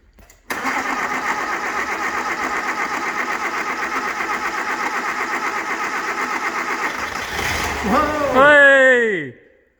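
A 1980 Suzuki LJ80 engine, a barn find unstarted for 15 years, cranks steadily for several seconds with a rhythmic churning, then briefly catches and revs up before cutting out; close and moderately loud.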